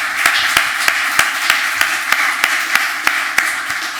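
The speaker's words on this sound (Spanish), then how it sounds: "vamos a darle un aplauso" Sparse, slow claps from a small audience at the close of a photography talk, single sharp hand claps spaced about every third of a second, close and distinct over a quiet room.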